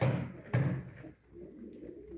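Pigeons brought in from outside, kept for quarantine, give low, soft coos in two short phrases, close by, with no talking.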